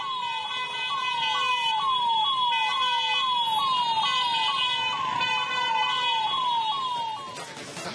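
An ambulance siren wails in a steady, repeating rising-and-falling cycle, loud and close, while the ambulance is stuck in a traffic jam near CBT in Dharwad, with a low rumble of surrounding traffic beneath it.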